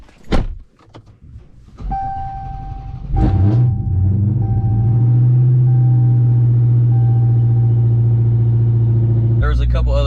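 After a few door clunks and handling noises, a Dodge Hellcat's engine settles into a loud, steady low drone that holds for several seconds before a final thump.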